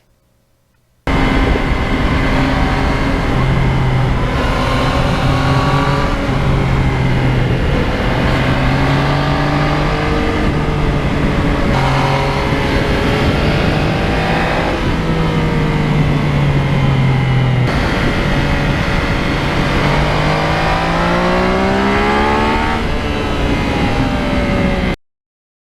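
A 2020 Yamaha MT-09 naked motorcycle engine accelerating while riding, a loud continuous drone that rises in pitch through the gears, with a few shifts and no talking over it.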